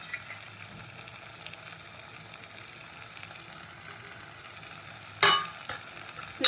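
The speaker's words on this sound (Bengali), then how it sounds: "সব মশলাগুলো এবার খুব ভালো করে কষিয়ে নেবো।" Cumin paste and Kashmiri chili fry in a pan, a faint, low crackling sizzle that runs evenly before a sharp, brief scrape or clatter near the end.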